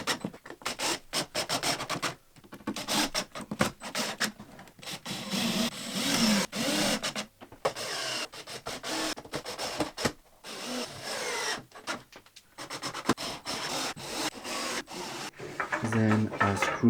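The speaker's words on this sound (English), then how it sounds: "At some point I also thought that it would be a good idea to cut the pointy bit of the dowels." Saw cutting the pointed ends off wooden dowels for a reclaimed-wood kid's bed, a close rasping, scratchy cutting noise in repeated bursts with brief pauses between strokes.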